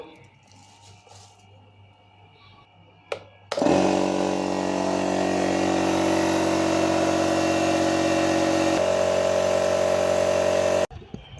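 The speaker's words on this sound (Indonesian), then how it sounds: "Dan di sini kita menggunakan uh, kompresor, paku tembak ya, paku lurus gitu kan. Kita nyalakan dulu." Air compressor for a straight-nail nail gun switches on abruptly and runs with a loud, steady motor drone for several seconds before cutting off, after a quieter stretch of room noise.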